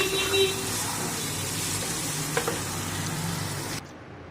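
Onions fry half-done in a pan on a gas stove, giving a steady, close sizzle with a few light stirring clicks. The sizzle cuts off abruptly just before the end, leaving near silence.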